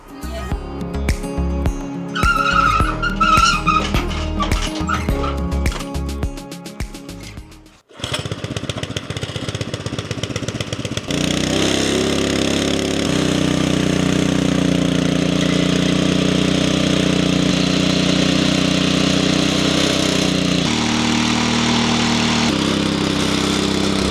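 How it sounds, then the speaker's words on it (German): A small excavator's engine drones continuously at a constant pitch, loud and close, following a few seconds of clattering mechanical noise. "So, der Motor läuft"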